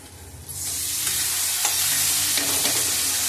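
Cabbage added to a hot pan with potato already in it bursts into a loud, steady sizzle of frying, with light stirring clatters, close and with no voices.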